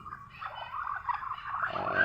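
Ducks call in a noisy cluster of quacks and nasal chatter from a pen where males are being swapped out and chasing the females, the calling continuous and moderately close with no talk over it.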